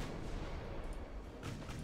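Naval guns fire a volley in the warship game Ultimate Admiral Dreadnoughts, a faint, distant rumble of gunfire with a burst near the end, heard alone.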